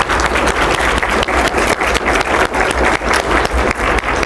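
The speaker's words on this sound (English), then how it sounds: "let's give you a round of applause" Past award winners standing at a research day luncheon draw a loud, sustained round of clapping from the room, dense and even with no pause.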